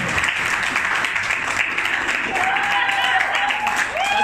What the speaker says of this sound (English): start clapping and bring it forward for your host